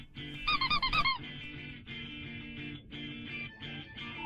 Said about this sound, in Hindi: शाओ यांग, दरवाजा खोलो।